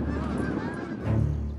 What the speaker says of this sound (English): seagulls and Canada geese flock to airports, taking advantage of the peace and quiet